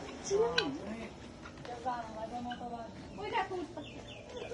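Chickens cluck and call repeatedly nearby at a crocodile breeding centre in Ukhiya, Cox's Bazar, mixed with people talking and some background clatter.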